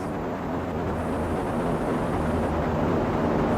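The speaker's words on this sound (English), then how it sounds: "There's always a plane when there's a horde." An airplane drones overhead in the video game 7 Days to Die, a steady, broad low engine roar that holds evenly throughout without voices.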